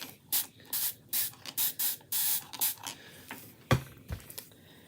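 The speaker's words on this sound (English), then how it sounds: "Let's spray these too a little bit." Aerosol spray hisses in a quick series of short bursts over chalk paint stencil shapes, close and loud, followed by a couple of sharp clicks and light handling noise at the end.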